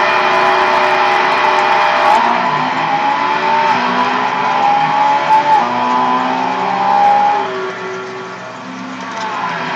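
Pagani Zonda race car engine in Gran Turismo, a loud sustained engine drone with rising and falling pitch sweeps through gear changes, heard alone.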